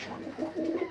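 Pet canaries, budgies and a cockatiel in a home aviary chirp and warble continuously at close range, a busy overlapping chorus with no talking.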